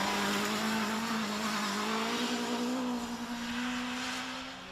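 An off-road racing buggy engine drones at a steady high pitch during a cross-country rally event at Kielder, loud and sustained before fading slightly at the end.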